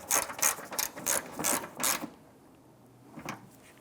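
A hand ratchet tightening an upper bolt while installing a windshield washer reservoir on a 2008-2013 Nissan Rogue, with about eight quick, close clicking strokes in an even rhythm, then a pause and one faint final click.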